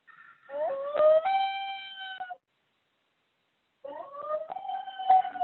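A common loon gives its wail, the long-distance call between adults in the Adirondacks, two clear rising, mournful tones separated by silence, drawn out and moderately loud with a slight waver.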